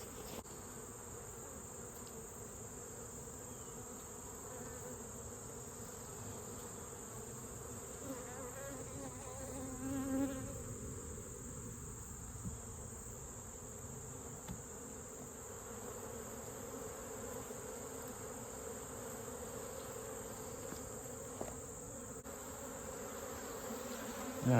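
A steady drone of honeybees swarming around their hive in late summer, continuous and moderately close, with individual bees occasionally buzzing nearer over the background hum; no voices.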